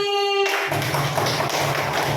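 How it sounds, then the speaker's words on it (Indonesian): Applause in a primary school classroom for a student group: a short spoken tone, then a dense, steady burst of many hands clapping close by for about two seconds. "Tepuk tangan untuk kelompoknya Mbak Silvi"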